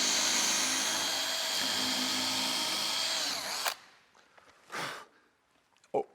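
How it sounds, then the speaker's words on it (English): A power drill whines steadily, close and loud, widening a nail hole in a wooden boat plank, then stops abruptly and leaves a few soft knocks and rustles. "come in with a drill,"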